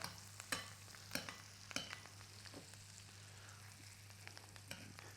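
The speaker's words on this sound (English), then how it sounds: "So this napping or basting of the butter, what you're doing is you're adding flavour." Butter and garlic spooned over a fillet steak in a hot pan, giving a faint low sizzle broken by sharp spoon clicks and splashes against the pan, under a steady background hum.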